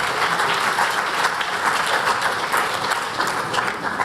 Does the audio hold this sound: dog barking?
no